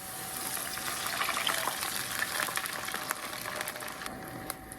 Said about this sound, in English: I'm going to add 250 ml of water.